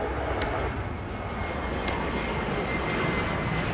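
A jet airliner in the Airport Madness video game rumbles down the runway on takeoff, a steady, loud engine roar with a few faint clicks, no talking over it.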